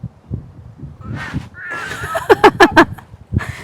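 Outdoors on Lakshadweep, a crow caws four times in quick succession, loud and close, after a stretch of low murmuring, with another faint call at the end.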